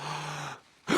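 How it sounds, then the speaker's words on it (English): A long, deep breath heard through a stethoscope in a children's cartoon, drawn as a steady airy rush that fades into a brief hush before a sudden louder sound at the end. "I don't like the sound of that breathing."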